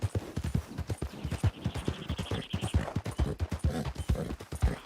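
Rhythmic clip-clop of horse hooves at a steady trot, close and clear, with a faint tonal hum in the background, in the video game Red Dead Redemption 2.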